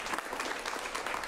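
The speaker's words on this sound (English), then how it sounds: "Give them a round of applause" Brief burst of audience applause for improv comedy players at a live show, dense clapping heard at a moderate distance for just over a second.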